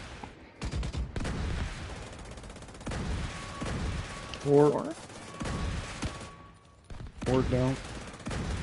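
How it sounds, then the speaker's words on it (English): Gunfire in The Division during a hardcore clan raid, with repeated bursts of shots spread through the clip under ongoing team chatter. "Why are you shooting that thing?"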